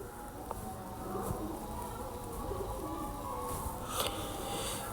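Teddy breed pigeons cooing softly in a loft, low murmuring calls over a steady background hum, with faint distant chirps.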